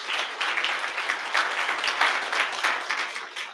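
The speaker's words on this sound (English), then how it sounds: "So round of applause for the folks at AdRoll" A tech meetup audience applauds the hosting company, a steady, fairly close crowd clapping that continues evenly throughout.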